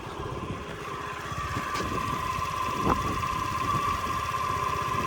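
A Honda Giorno AF-70 scooter engine idling, a small, even, steady putter that holds close and constant throughout with no talk.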